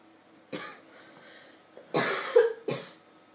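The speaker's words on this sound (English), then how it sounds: "Sorry for the cough." A man coughs several times, close and loud, in short harsh bursts separated by brief pauses.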